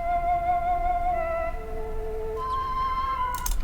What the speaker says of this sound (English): So this flute's from Kontakt. It just goes like this.